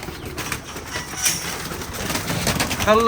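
Premium-grade fancy pigeons coo softly amid a busy outdoor murmur, with low throaty calls and faint wing flutters throughout, no voices.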